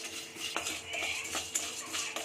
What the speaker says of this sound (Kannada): ಚಕ್ಕೆ, ಲವಂಗ, ಏಲಕ್ಕಿ ಒಂದೇ ಸರಿ ಹಾಕ್ಕೊಂಡಿದ್ದು ಫ್ರೈ ಮಾಡ್ತಾಯಿದ್ದೀನಿ.